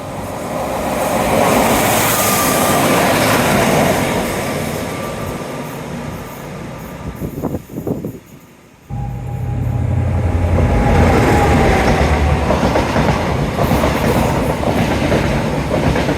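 A train rumbles past close by at Teignmouth, a loud steady roar with rattling wheels that briefly drops away before surging back for the rest of the pass.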